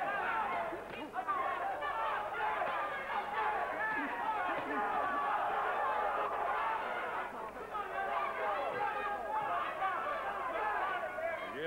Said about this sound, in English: You hear the crowd trying to get everybody into this fight